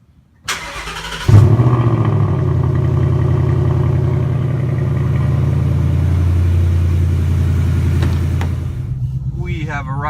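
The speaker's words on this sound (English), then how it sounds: "First cold startup of December" A car engine cold-starts in December with a sharp crank and catch, then settles into a loud, steady idle with a low rumble that holds for several seconds before a voice briefly speaks at the end.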